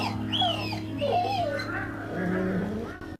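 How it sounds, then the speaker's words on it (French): A dog in a taxi whimpers and yips in a few high, wavering whines. The cries are fairly close but moderate in level and stop abruptly at the end. "On entend son chien."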